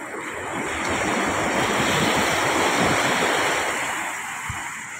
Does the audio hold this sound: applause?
no